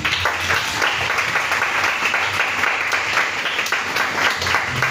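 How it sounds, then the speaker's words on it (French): A church congregation bursts into loud, sustained applause acclaiming Jesus during a French-language spiritual teaching service, the dense clapping filling the room steadily for several seconds. "Acclame Jésus"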